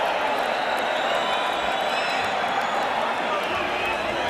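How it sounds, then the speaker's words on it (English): A boxing crowd at a Mike Tyson versus Steve Zouski fight applauds and cheers in a dense, continuous roar of clapping, with faint voices mixed in. "the crowd is applauding the courage of Steve Zouski"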